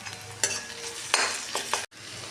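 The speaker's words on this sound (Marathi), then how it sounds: "तर ह्यात आपण आलं लसूण पेस्ट घालूया" Ginger garlic paste stirred into onions already frying in a pan for a jackfruit curry, giving a steady sizzle with scraping stir strokes and brief bursts as the paste hits the hot oil, close up with no talk.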